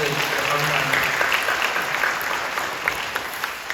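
A church congregation applauds together at a dawn prayer service, a dense, even clapping that fills the room for a few seconds.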